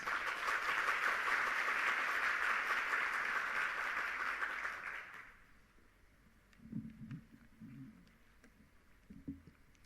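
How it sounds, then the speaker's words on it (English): Applause from the audience at a 2017 trade and development regional forum, steady clapping for about five seconds that fades out, followed by a few faint scattered thumps in a quiet hall. "Please give him a big hand."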